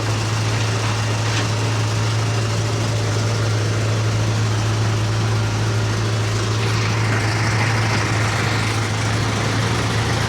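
A tractor engine pulling under load, a loud steady low drone that holds without a break, no voices.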